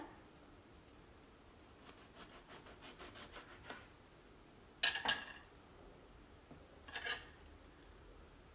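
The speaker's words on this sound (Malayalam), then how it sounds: "ഇത് നമുക്ക് വഴുതനങ്ങ ഒന്ന് കട്ട് ചെയ്തിട്ട് എടുക്കാം" A knife slices a washed brinjal into pieces in a home kitchen, giving a few faint, sparse taps and scrapes against a quiet background, with a sharper cluster of cuts midway and another near the end.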